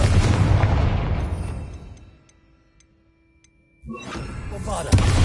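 A Confringo blasting spell goes off in the Hogwarts Legacy video game, a loud broadband burst that rumbles and fades over about two seconds, then near silence before another heavy blast bursts in.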